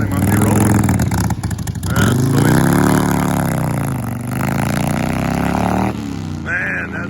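A 1970s Harley Roadster XLS1000 chopper engine runs freshly after a valve adjustment, loud and close, revving up and settling with a rough, rumbling idle and some mechanical clatter.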